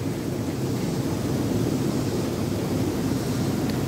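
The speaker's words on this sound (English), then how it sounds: "Turn the high jets on." Hot tub jets running on high at a cabin in Broken Bow, Oklahoma, giving a steady, loud rushing and churning water roar that holds evenly throughout with no talk.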